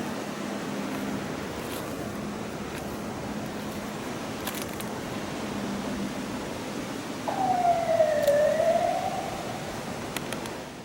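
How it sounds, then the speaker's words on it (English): A distant fire engine siren wails briefly in a rising and falling tone over steady outdoor background noise, rising out of the ambience near the end. "You just heard the siren of the fire brigade that arrived"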